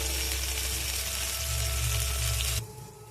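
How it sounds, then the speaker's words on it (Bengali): Ginger garlic paste sizzling steadily in a hot pan, a loud continuous frying hiss for most of the moment before dropping off sharply near the end. "আদা রসুনের পেস্ট দিয়ে ভালোভাবে আপনারা একটু কষিয়ে নেবেন"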